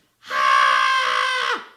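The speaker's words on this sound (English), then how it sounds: "And when we're scared, you know what we can do? We can scream like this." A person lets out a single loud, sustained scream, demonstrating what to do when scared, lasting over a second and tapering off at the end, alone with no other sound.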